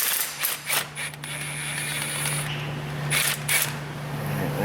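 A ratchet clicks and creaks close up while bolts are backed out of the exhaust manifold on a Ford F250 6.8 V10. The mechanical ticking is fairly quiet and comes in short bursts, with no talking.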